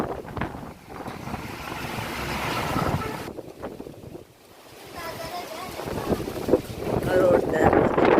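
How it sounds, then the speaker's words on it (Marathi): Strong cold wind gusting through a village, a loud blustery rush buffeting the microphone with a brief lull midway, then building again. "पाहू शकता कसली गार हवा सुटले"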